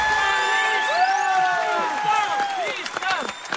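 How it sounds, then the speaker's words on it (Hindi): A studio audience at the Playground S4 show greets a mentor's entrance with whistles, whoops and cheering, a lively, close crowd roar that carries through the whole stretch. "सो प्लीज वेलकम जोरदार तालियों से हमारे बहुत ही सीरियस अपने काम को अंजाम देने वाले मेंटर"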